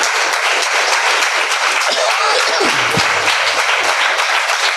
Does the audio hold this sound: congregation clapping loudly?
yes